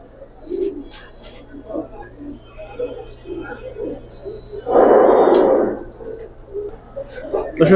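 Giribaz pigeons of the army line softly coo in a pet-bird setting, with someone talking over them and a brief louder rustling burst midway.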